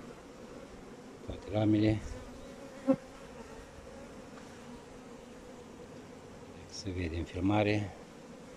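Honey bees drone steadily around hives during acacia honey extraction, a constant low buzzing that runs underneath two short bursts of someone talking nearby.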